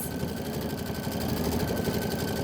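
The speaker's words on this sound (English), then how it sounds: "I'm just going to go ahead and let it stitch at the 800." An embroidery sewing machine stitches at 800 stitches per minute with a fast, continuous mechanical whir and a rapid, even clatter, close by and steady, with no speech over it.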